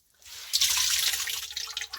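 Water being squeezed and wrung from a sponge used to soak up a leak beneath a Samsung refrigerator, a close, steady splashing and trickling that swells after a quiet start and continues without talk.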